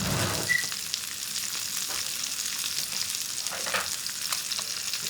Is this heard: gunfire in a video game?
no